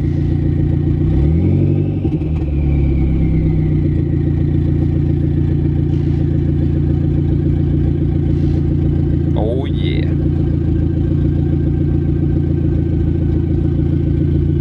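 A Dodge SRT-4 with an open downpipe exhaust idles with a loud, rough drone and rises into a brief rev early on, with someone talking over the engine throughout.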